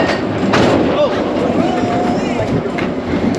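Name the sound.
train ride on track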